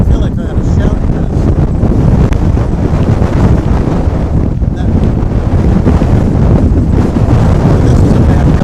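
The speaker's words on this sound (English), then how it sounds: "this is a bad gust. It's lifting the tripod off of its base, even with me holding it down" Heavy wind buffets the microphone nonstop during a strong gust at a Dallas–Fort Worth airport plane-spotting spot, a loud low rumbling roar with surging pulses and no clear voices.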